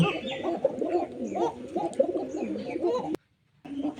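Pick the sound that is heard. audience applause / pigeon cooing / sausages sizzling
pigeon cooing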